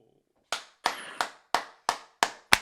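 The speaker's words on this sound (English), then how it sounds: "You just clap." Seven sharp hand claps at a steady, deliberate pace, close and crisp with brief decays and silence between them, no talking.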